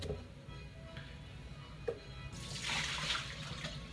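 Water runs and splashes into a pot being filled to boil sausages, a faint trickle that grows into a fuller pouring rush partway through, with no talk.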